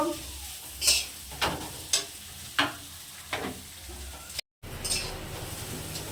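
Ingredients fry with salt in a pan, a soft sizzle under a series of spatula stirs and clinks against the pan, fairly quiet and close with a brief dropout near the end.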